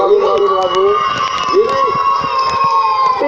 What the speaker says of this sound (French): Bravo, on peut l'applaudir, il a été extraordinaire, bravo.